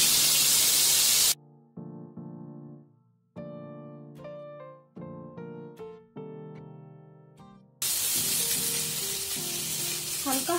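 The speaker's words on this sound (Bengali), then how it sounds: "এখন আমি ফুলকপিটা ভাজা করে নেব" Cauliflower frying in a pan gives a loud, steady sizzle at the start and again at the end, with a stretch of tonal music filling the middle.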